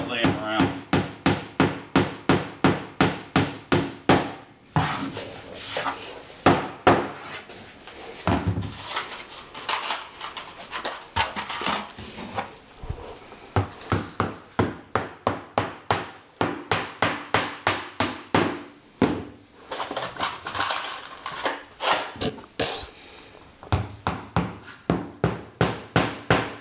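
Nails are hammered into wood while a coffee table is repaired with veneer. Runs of rapid, sharp, nearby strikes are broken by brief pauses and some handling noise, with occasional voices in the background.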